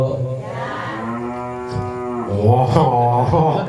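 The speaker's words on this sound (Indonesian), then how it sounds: "Rupanya sapi melu ngaji" A single cow lets out loud, close, sustained moos, one long call followed by a second rising one, with a faint voice-like murmur in the background.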